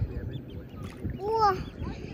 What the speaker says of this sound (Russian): А сзади тебя вон там уточка плавает красивая такая